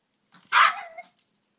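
A Papillon dog gives a single sharp bark followed by a short trailing yip, close and fairly loud against a quiet indoor background.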